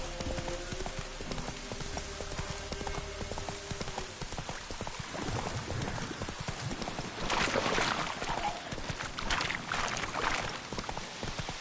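Horse hooves clip-clopping in The Witcher 3, a steady rhythmic trot under rain-like patter and ambient game sound, growing busier and louder in the second half.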